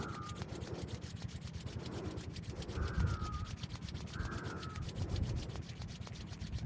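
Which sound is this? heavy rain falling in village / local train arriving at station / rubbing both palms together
rubbing both palms together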